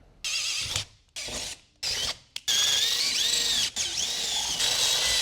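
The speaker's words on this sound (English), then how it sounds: "Grab a 1/2 inch drill bit and we'll drill these out." A power drill with a half-inch bit whines in short bursts, then runs steadily with a high squealing pitch as the bit bites through metal, close up.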